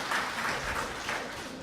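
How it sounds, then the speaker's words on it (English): Audience applause at closing remarks, a brief, dense patter of clapping from a seated crowd, moderately loud and steady throughout, with no speech over it. "So a little round of applause for Robbie in absence."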